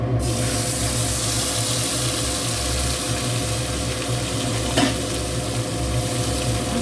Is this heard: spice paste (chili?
yes